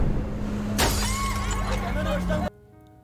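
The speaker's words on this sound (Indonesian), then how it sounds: "langsung mengambil batu dan melemparnya ke arah bis. Karena kaca bisnya pecah," A stone thrown at a bus smashes its glass window, a sudden loud crash followed by tinkling, scattering shards over a steady engine hum, then everything drops away.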